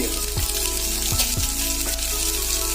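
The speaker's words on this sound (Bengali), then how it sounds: "পেঁয়াজগুলো দিয়ে দিলাম কাঁচা লঙ্কাটা আমি একটা দুটো দিলাম" Onions and one or two green chillies sizzle loudly in hot oil in a pan. A few sharp scraping stirs cut through the steady frying crackle, and no one speaks.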